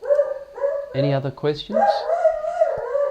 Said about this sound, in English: Oh, I wish my dog would shut up.